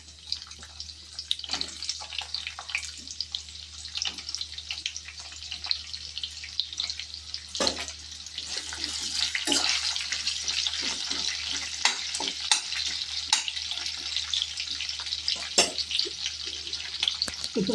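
Sliced onions frying in a pan for mint pulao give a continuous soft hiss with scattered crackles and small clinks, swelling a little louder partway through; no one speaks.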